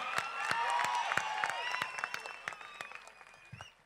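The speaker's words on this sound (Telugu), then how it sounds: "గట్టిగా చప్పట్లతో రెండు చేయిలు ఉన్నోళ్ళు రెండు చైలుతో గట్టి కొట్టాలి" Live audience clapping at the Balagam film pre-release event in Hyderabad, a dense burst of many hands that starts strong and gradually thins out, with some crowd voices underneath.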